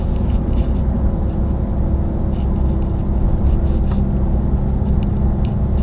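A truck engine runs steadily while driving, a loud, constant low rumble and whir with no breaks; no talking is heard.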